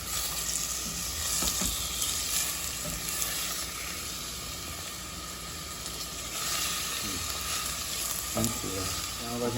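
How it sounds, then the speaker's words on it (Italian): Soffritto with chopped celery fries in a pot with a steady, dense sizzle and hiss, close and continuous, with a few stirring clicks near the end. "Stiamo facendo il soffritto, adesso vedete come frigge più o meno"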